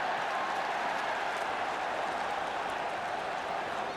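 A football stadium crowd roars in a dense, continuous wash of noise as fans appeal for handball, steady and fairly distant, with no distinct voices standing out.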